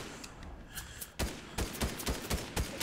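Rapid bursts of video game gunfire crack out in uneven clusters, quieter at first and then louder and denser, with no talk over them.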